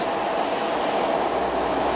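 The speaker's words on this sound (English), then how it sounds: "approaching now is the 1118 Great Western Railway service to Gloucester from Weymouth" A Great Western Railway passenger train, unit 150101, rumbles past at close range at Keynsham station, a loud, steady roar of wheels and motion with faint clatter, no voices.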